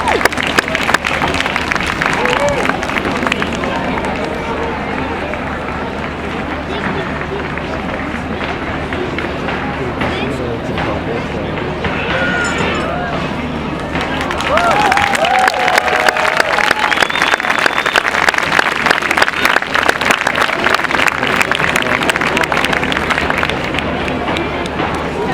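A theater audience applauding and cheering at a street-style show, with a dense, sustained wash of clapping and crowd noise that swells louder partway through while a performer talks over it.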